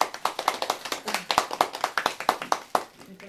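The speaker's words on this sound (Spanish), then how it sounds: "Un aplauso para todas" Brisk, steady hand clapping with distinct, evenly spaced claps, as from a small audience, fairly close, tapering off toward the end.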